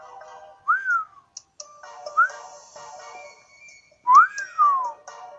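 Three rising-and-falling whistled notes from a person in the game Pokemon Alpha Sapphire, spaced apart over a faint background, the last one longest and loudest.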